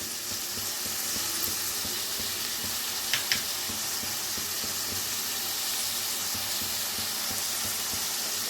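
Onion and green chilli pieces with salt and turmeric sizzle steadily in a pan, a dense, even frying hiss that runs the whole time, with a brief metallic clink near the middle.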